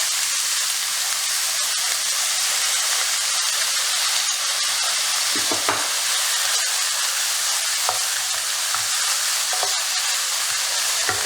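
Pork with a splash of soy sauce stir-frying in a hot pan for Thai pad see ew, a steady loud sizzle and hiss throughout with occasional scraping stirs and clinks, no talking.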